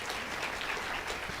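An audience at a Tamil comedy debate show claps, an even, continuous patter of many hands that sounds rather faint and distant, with no speech over it.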